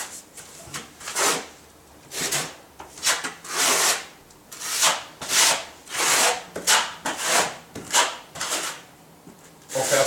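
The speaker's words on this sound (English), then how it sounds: "we load the trowel up with adhesive and then just start spreading it" A trowel spreads tile adhesive in steady, close scraping strokes, about a dozen rhythmic swipes with brief pauses between them.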